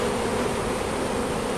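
Italian honey bees swarm on a hive frame in a dense, steady, close buzz that fills the brief moment without pause.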